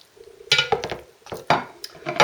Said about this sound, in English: Put the chicken in the pan